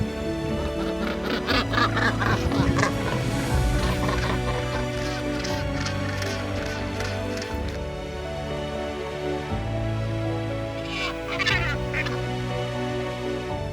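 Northern gannets calling at a busy colony, a dense chorus of harsh, overlapping honking cries at close range, rising and falling continuously throughout.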